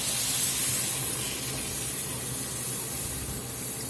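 Unsalted beef broth pours into a hot pan of browning flour for a Cajun meatball gravy, giving a loud, steady sizzling hiss that fades slightly as it settles, with no talking.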